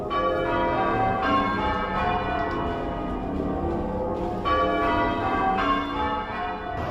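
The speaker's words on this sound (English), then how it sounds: "I've just heard the peal of the bells, which starts the Remembrance" Church bells ringing a peal to open Remembrance Sunday in South Molton, a continuous loud run of overlapping bell strikes with no talking.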